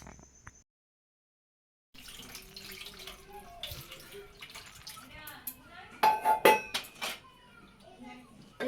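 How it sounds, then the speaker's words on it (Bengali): Dishes washed from a pond are rinsed under running tap water, with clattering pots and utensils and splashing water close by; the flow surges loudest near the end after a quiet gap. "এগুলো ঘাটের ধোয়া বাসন বন্ধুরা, ওই জন্য একটু কলের জল দিয়ে ধুয়ে নিলাম পরিষ্কার করে"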